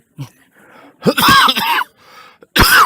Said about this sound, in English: This cough sounds worse than it is.